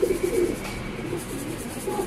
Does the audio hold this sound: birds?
yes